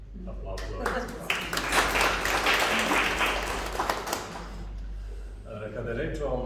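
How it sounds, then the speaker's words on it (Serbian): An audience claps at a book promotion event in Kragujevac, a dense burst of applause rising and fading over several seconds amid room noise. "Aplauz."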